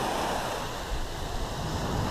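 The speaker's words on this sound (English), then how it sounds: "don't know how well you'll be able to hear me over the waves" Ocean waves wash steadily against the coast, a loud, continuous close roar of surf with wind mixed in and no voices.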